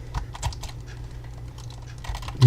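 Typing on a computer keyboard while entering a task title in a web client, a steady patter of light, close keystrokes with no speech.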